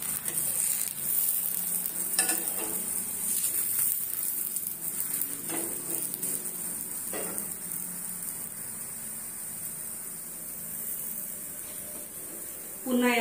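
Jowar thalipeeth roasting until crisp on a pan, a soft steady sizzle with a few scraping clicks early on, fairly faint and without talk.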